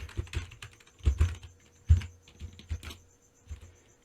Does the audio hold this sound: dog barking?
no